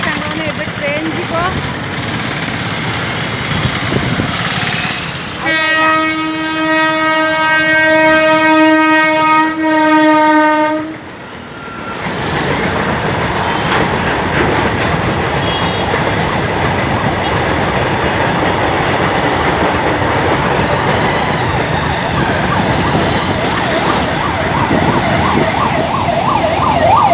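A train passes near Jagatpur on the Cuttack–Salepur road, heard from a moving motorbike. Its horn blares in one sustained blast of about five seconds over steady rolling rumble and road noise.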